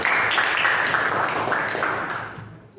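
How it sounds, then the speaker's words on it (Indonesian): A classroom of students applauding together, a dense, steady wash of clapping that holds for a couple of seconds before tapering off. "Kasih tepuk tangan buat semuanya"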